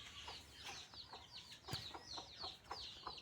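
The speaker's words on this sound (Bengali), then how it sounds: "এর ভিতরে মুরগির বাচ্চা আছে, ঠিক আছে। এই ক্যাক ক্যাক ক্যাট করতেছে" Young chickens kept inside a house cluck and peep over and over in quick, close, fairly soft bursts that come at a loose, uneven rhythm.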